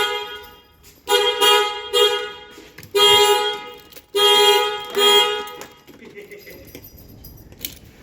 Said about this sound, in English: You should put the key in the door because the car alarm's going to go off.